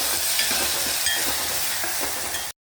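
Constant loud sizzling of dried turkey berries (manathakkali vathal) frying in a hot pan, with occasional stirring scrapes, close up, ending abruptly.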